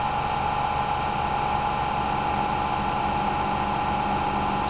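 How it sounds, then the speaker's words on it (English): Steady broadband white-noise wash from the Airwindows Infinity reverb plugin, a sustained hiss-like texture held evenly throughout with no gaps or talk. "So that's going to throw some white noise kind of stuff in there"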